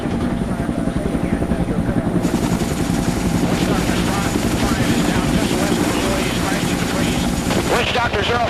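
Military helicopters flying into a Vietnam War landing zone under fire, with steady, loud rotor chop and engine roar throughout and a voice talking over it.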